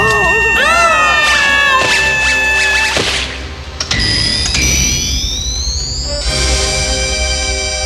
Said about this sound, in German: Das war nicht der Geist, sondern unsere Alarmanlage.